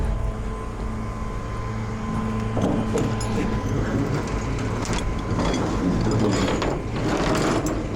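A winch line is pulled out after a wreck, a rapid ratcheting clatter of the pawl and gears running steadily for several seconds, close and fairly loud.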